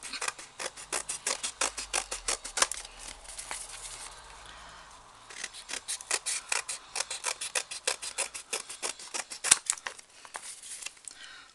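Scissors cutting through a cardboard rusk box, a close, rapid run of crisp snipping and rasping strokes that pauses briefly midway and then resumes.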